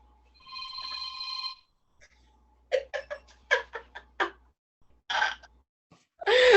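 A telephone rings in a kitchen during a home cooking session making cosa dolce fig cookies, with a sustained bell-like trill followed by a pause and then several short bursts of people talking nearby.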